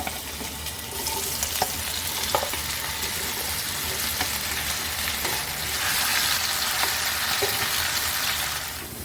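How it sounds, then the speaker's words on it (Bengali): Small potato pieces coated in salt and turmeric sizzle steadily in hot oil in a frying pan in a Bengali home kitchen, with a close, even crackle and a few soft clicks and scrapes from stirring. "আমি আলু ছোট ছোট টুকরো করে নুন হলুদ মাখিয়ে নিয়েছি। এবার এটা আমি ভেজে নেব, ভেজে তুলে নেব।"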